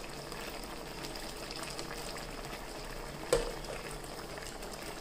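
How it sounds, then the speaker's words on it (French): Guyanese calalou simmering after a little water is added, a faint steady bubbling hiss with a single soft knock partway through. "pour donner un petit peu plus de jus, je rajoute un petit peu d'eau"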